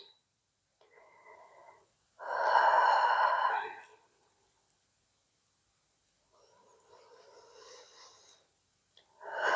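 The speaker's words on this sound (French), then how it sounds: "Et on inspire, on relâche." Slow exercise breathing, a soft inhale building into a louder, longer breathy exhale, then a quieter second breath cycle, close and alone with no talking.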